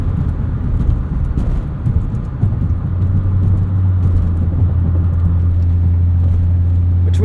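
Volvo 850 R in sport mode, a loud in-cabin engine drone and rumble that shifts in character early on and then settles into a steady hum, with no speech.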